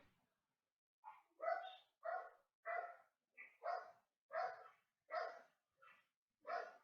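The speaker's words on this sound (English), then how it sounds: "Sorry about my dogs again." Several dogs bark in a steady series of about nine loud, close barks spaced roughly half a second apart, with no talk over them.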